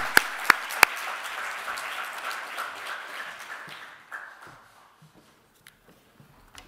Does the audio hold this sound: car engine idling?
no